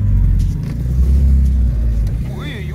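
A ZAZ-965 Zaporozhets engine rumbles loudly and close, revving with a deep growl as the small car starts off on rough industrial-zone ground, with a brief voice mixed in.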